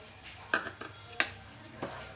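Gram flour is tipped into a pan of browned ingredients and mixed, heard as a few quiet, sharp clinks and scrapes of a utensil against metal with gaps of near silence.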